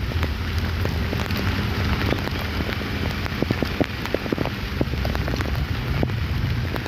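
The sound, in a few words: rain falling on the street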